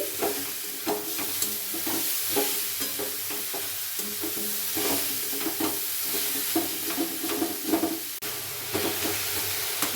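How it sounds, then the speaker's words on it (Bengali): A coconut and jaggery filling cooks in a pan, the soft sizzle joined by repeated scraping, tapping stirs of a spoon at an uneven rhythm, close and moderate in level. "প্রথমে নারকেলের পুরটা তৈরি করে নিচ্ছি।"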